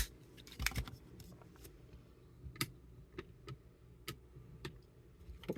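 Plastic Transformers Studio Series 86-25 Blaster and Eject figure being folded and transformed, a run of sharp, close clicks and snaps at irregular intervals over a quiet background, with no talking.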